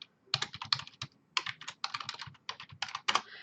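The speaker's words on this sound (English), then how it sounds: "Let me see if it'll let me type it in first of all" An email address being typed on a computer keyboard: quick, close clusters of crisp key clicks in uneven bursts with short pauses, no voices.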